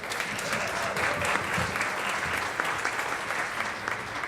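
Steady audience applause at a university panel celebration, dense clapping filling the room at a constant level from start to finish with no voices on top.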